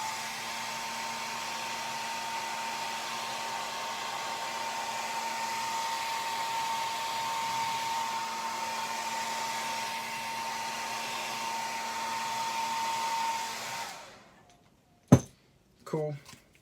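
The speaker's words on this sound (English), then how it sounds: "So I'm gonna heat set it just real quick one more time" A heat gun sets freshly airbrushed paint on a bluegill-pattern crankbait, giving a steady, loud blowing whoosh that runs unbroken for about fourteen seconds, then cuts off and is followed by a few brief clicks and handling knocks.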